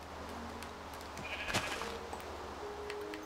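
Sheep in a video game bleat faintly over a low ambient background, with a brief sharp click and a few soft game sound effects around it.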